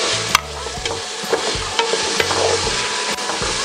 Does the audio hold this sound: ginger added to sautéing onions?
yes